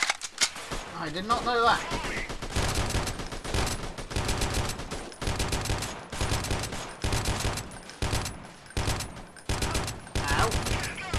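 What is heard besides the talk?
covering gunfire in the video game Freeman: Guerrilla Warfare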